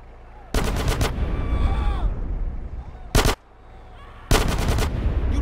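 Gunfire in the video game GTA San Andreas rips out in three loud rapid bursts, the first and last about a second long and a shorter one between them, with quiet game ambience in the gaps.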